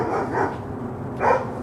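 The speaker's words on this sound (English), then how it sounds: "There's 2 dogs barking." Two dogs barking behind a fence, a pair of short muffled barks about a second apart, heard from a moderate distance with no talk over them.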